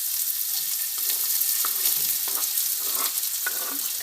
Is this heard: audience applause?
no